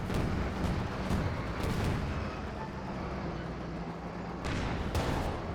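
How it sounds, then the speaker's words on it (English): Artillery smoke barrage from an officer in the Company of Heroes 2 strategy game, a run of deep booming shell impacts and rumbling blasts recurring over a steady battlefield din, with no talk. "Got the smoke barrage coming in from the officer."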